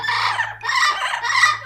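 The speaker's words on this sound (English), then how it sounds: "There's a lot of screaming." Parrots screaming in three loud, harsh, drawn-out calls close by, each lasting about half a second with short gaps, over a low steady hum.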